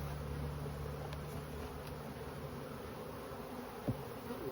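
Honey bees buzz in a steady, dense drone around open hive boxes full of honey during colony work, a continuous close hum with a faint knock near the end and no talk.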